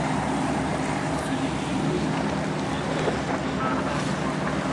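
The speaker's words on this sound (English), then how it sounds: "I hear him. There's Nautica Queen." Nautica Queen ship passing offshore during an air show, a steady low rumble mixed with wind buffeting the microphone, with faint voices nearby.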